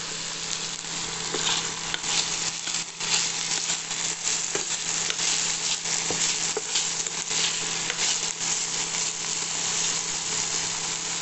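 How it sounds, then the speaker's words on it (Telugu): Vegetable pulao stirred in a frying pan, with steady scraping and clattering of the spoon over a constant loud sizzle running the whole time and no talk. "వేసాక ఒకసారి కలపండి."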